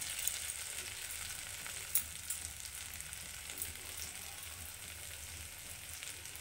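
Mashed flat bean paste, ground on a grinding stone, sizzles in a pan with fried onion and garlic. The quiet frying hiss stays steady throughout, with a few faint pops and stirring scrapes and no talking.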